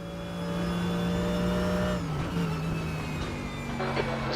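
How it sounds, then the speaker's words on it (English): A faster-class race car approaching in a RaceRoom endurance race at Imola, its engine droning steadily with a sustained tone that shifts pitch partway through as it closes in. "There's a faster class car approaching."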